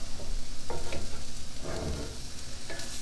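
Food simmering and sizzling in a covered pan, a steady close bubbling hiss with small pops and stirring scrapes, no voices.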